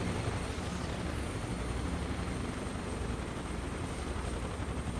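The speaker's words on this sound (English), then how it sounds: "a noisy experience for the people in the stilt village today with all of these helicopters buzzing overhead" Helicopters in Microsoft Flight Simulator 2024 buzz overhead above a stilt village in the rugged Papua New Guinea highlands, a loud, unbroken rotor-and-engine drone filling the whole stretch with no talk.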